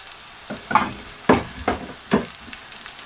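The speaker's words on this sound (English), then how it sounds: "So I'm going to add this meat into the onion" About 1 kg of bone-in mutton hits a pan of browning onions for Rajasthani laal maas, with several sharp bursts of sizzling and stirring scrapes spaced about a second apart against a quiet background.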